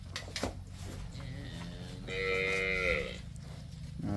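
A Punjabi Jersey cow on a farm gives one drawn-out moo of about a second, fairly near, over a low steady background rumble.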